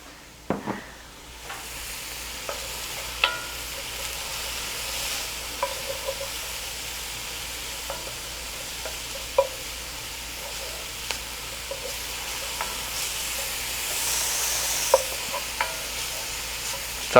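Onions and garlic fry in oil in a pan, a steady soft sizzle running throughout with occasional clinks and scrapes of stirring, close and moderately loud with no talking.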